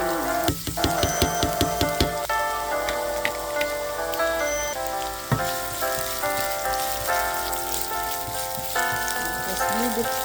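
Garlic and onion fry in a pan, giving off a steady crackling sizzle with scattered pops throughout, partly under tonal background music.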